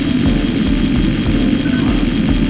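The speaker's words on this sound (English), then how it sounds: "We've confirmed the presence of a bomber of unknown origin in the airspace above." A bomber aircraft flying overhead in the Armored Core 2 Another Age video game gives a loud, continuous engine drone with a low rumble and a thin high whine, steady throughout.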